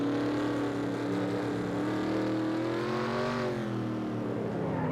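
Race car engine in NASCAR Racing 2003, steady loud roar with harmonic tones dipping and rising as the car brakes hard into the final corners, continuous throughout.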